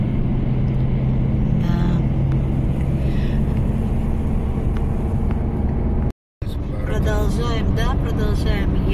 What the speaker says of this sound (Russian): Продолжаем ехать по Видземскому шоссе